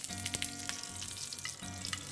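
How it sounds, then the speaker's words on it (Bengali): Capsicum fries in oil in a pan while a capsicum and prawn korma is being cooked, giving a close, even sizzle with small crackling pops and one or two brief stirring scrapes. "এইভাবে পুরো ক্যাপসিকামটা ভেজে নেব"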